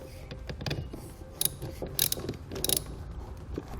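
A wrench tightens the cable nut on a battery terminal in a 2014 Jeep Wrangler, giving a quick series of close, sharp metallic ratchet clicks in uneven bursts, with no voices.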